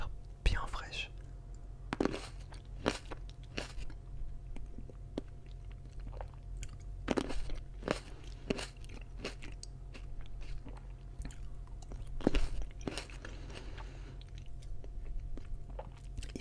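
Close-miked chewing of sweet, fresh, seedless fruit flesh that is slightly tart, with soft wet bites and crunches at irregular intervals under quiet whispering.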